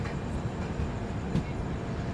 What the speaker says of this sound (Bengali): ট্রেন কিন্তু ছেড়ে দিল দুর্গাপুর